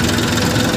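A tractor engine runs steadily while the tractor is driven in gear, producing a loud, continuous low rumble and chug with no pauses and no voices.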